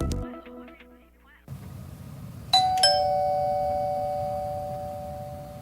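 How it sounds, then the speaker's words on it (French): A doorbell chimes twice, a two-tone ding-dong with bright ringing tones that decay slowly, following a brief stretch of soft music and room tone. "Le son de cette sonnette vous semble probablement bien banal."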